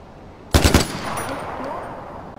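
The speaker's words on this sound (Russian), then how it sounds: "Кто-то стреляет." Gunfire erupts in the video game Far Cry 4: a quick, loud burst of three rapid shots, followed by a fading echo and ambient game noise.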